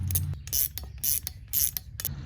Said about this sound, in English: now we can take a 10mm wrench and tighten down these 2 bolts